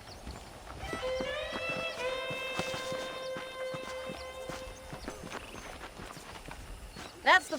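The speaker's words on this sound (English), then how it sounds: "The horses are saddled up over here." Horse hooves clip-clop at a steady walking pace in the Red Dead Redemption video game, close and clear, with a sustained whistle-like tone over them and a short louder knock near the end.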